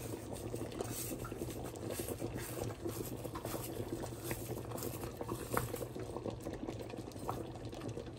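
Paneer butter masala gravy with kasuri methi and coriander leaves bubbles steadily in a pan, a continuous close simmering patter of small pops with no talking.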